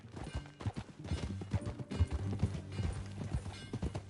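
Horse hooves clip-clop at a steady walking pace amid faint mechanical clanking and a low background hum, with no one speaking, in Red Dead Redemption 2.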